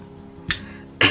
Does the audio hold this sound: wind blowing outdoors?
no